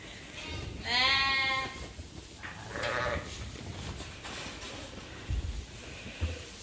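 Sheep and lambs bleat inside a farm pen: one loud, close bleat early on, then fainter calls and scattered shuffling thumps from the flock.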